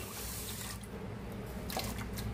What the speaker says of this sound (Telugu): సేమ్ గ్లాస్ తోని 2 గ్లాసెస్ వాటర్ యాడ్ చేస్తున్నానండి